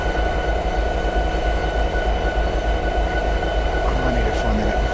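A diesel locomotive runs steadily in Train Simulator 2016, a loud continuous engine drone and rail rumble with a faint wheel squeal near the end.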